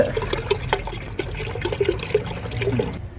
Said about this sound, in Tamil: 10 லிட்டர் தண்ணிக்கு காப்போத்தில் பால் ஊற்றியாச்சு.